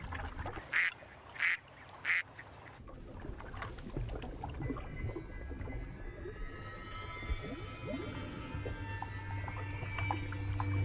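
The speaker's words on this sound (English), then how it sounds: "The ducks are unaware of what lies beneath." Ducks quack in three sharp, loud bursts at the start, then give way to softer splashing and movement on the water with a low steady hum of ambience.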